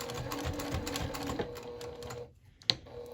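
A sewing machine runs in quick rhythmic bursts stitching a lanyard keychain, then pauses briefly before a sharp click near the end.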